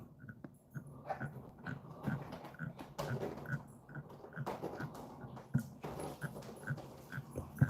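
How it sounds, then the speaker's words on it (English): Dogs playing with their toys indoors, with repeated thumps, scuffles and faint squeaky or whimpering notes in an uneven rhythm, close by. "The dogs are playing with their toys"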